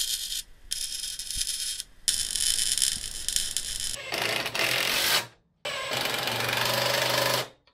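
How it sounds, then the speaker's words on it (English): A power drill boring a hole in recycled material for a water-powered generator, several steady whining bursts of near, loud motor noise separated by short pauses, with no talk. "Drill it out. Don't break it."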